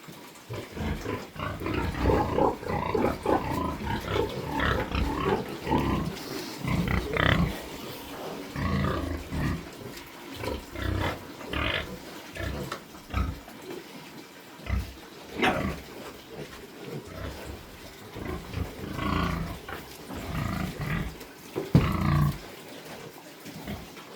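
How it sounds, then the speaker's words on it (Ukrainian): Young replacement pigs grunting and snorting repeatedly at close range at feeding time, with sloshing and shuffling noises throughout and no talking. "Так, Це у мене ремонтні свинки."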